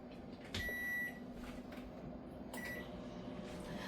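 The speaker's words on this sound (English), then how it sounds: "I'll put them in the microwave for like 30 seconds" A microwave oven hums steadily with a short beep near the start and another partway through, along with a cupboard-like clatter.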